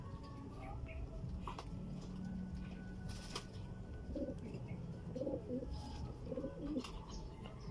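Racing pigeons cooing close by at a pigeon race finish in Pagudpud, Ilocos, soft repeated coos over background noise with brief clicks and a distant voice.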